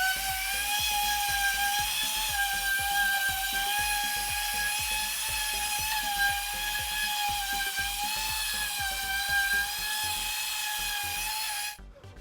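An orbital sander works a wooden outdoor bench, a loud steady whine with a pulsing motor beat running continuously before cutting out near the end.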